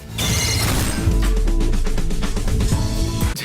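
A person's head is smashed in within an action scene, heard as a loud heavy crash followed by a dense rhythmic series of thuds and impacts over a low rumble, with no speech.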